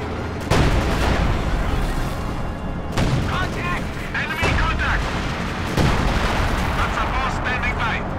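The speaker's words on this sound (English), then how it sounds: "Howitzer firing still." Howitzer artillery fires in Company of Heroes 2, with heavy booming shots at roughly three-second intervals over a constant battle din of gunfire and explosions, with a caster talking underneath.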